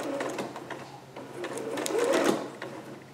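A home sewing machine runs steadily, stitching a skirt seam for a Vogue 8280 pattern, its fast mechanical whir continuous and close throughout.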